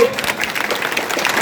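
Crowd applause at an outdoor political rally in Kothuru where scheme benefits are distributed, steady dense clapping throughout with voices mixed in.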